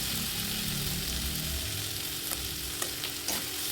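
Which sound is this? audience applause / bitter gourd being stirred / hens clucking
bitter gourd being stirred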